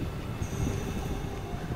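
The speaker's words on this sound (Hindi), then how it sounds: "लोकल ट्रेन पकड़ के मैं जाऊँगा सर्विस सेंटर में" Local train passing near a small railway station beside an overbridge, a steady broad rumble of wheels and carriages with a faint high squeal, heard at moderate distance and without talking.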